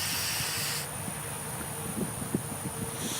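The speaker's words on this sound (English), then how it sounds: "Just keep spraying until you fill up basically the top section of the" A can of spray paint sprays onto water for hydro dipping a fishing reel, a continuous loud close hiss that drops slightly partway through, with faint clatter and handling noises underneath.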